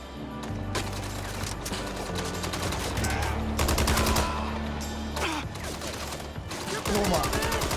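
Gunfire in the video game Mindseye, with dense bursts and rapid rattling shots running continuously over a busy game soundtrack, loud and close, with faint speech mixed in.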